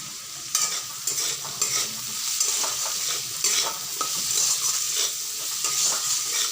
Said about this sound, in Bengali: এরপর এগুলোকে হালকা আঁচে বেশ কিছুক্ষণ ধরে ভাজতে হবে